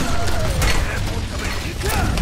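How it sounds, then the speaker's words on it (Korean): A Torbjörn turret deploying in the game Overwatch gives a dense mechanical ratcheting and clanking burst, steady and loud across the whole moment, with game effects layered over it. "포탑 설치."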